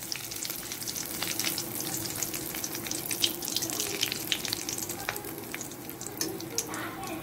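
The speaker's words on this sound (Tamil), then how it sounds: "பாருங்க இப்போ நான் கருவேப்பிலை போட்டு நம்ம பிடிச்சி வச்சிடலாம்." Curry leaves frying in hot oil for a crisp potato and peanut evening snack: a steady, close, dense sizzle and crackle with scattered pops that runs the whole time, with no talking.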